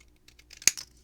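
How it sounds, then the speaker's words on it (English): Scissors snip through paper for a craft card, with a few light rustles leading up to one crisp, close cut followed by a brief papery crinkle. "if I can't get them all, then I'm going to use my scissors"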